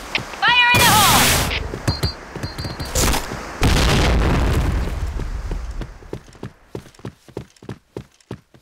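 Booming grenade blasts in the Point Blank shooter game, two or three heavy explosions in quick succession followed by a rapid scatter of gunfire and clicks, with in-game voice callouts mixed in.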